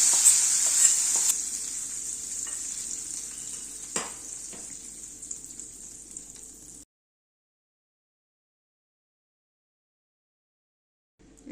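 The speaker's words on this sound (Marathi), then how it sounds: "आणि हा गरम तडका आता मस्त आपण दह्यावर टाकून घेऊया" Hot tadka poured onto curd for curd rice sizzles loudly and steadily with a bright hiss, fading over several seconds before cutting to silence, with a faint sound returning at the very end.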